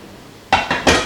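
Eggs being mixed into Lotus Biscoff cupcake batter in a bowl, heard as three quick, close clinks and scrapes of a utensil against the bowl after a brief quiet moment.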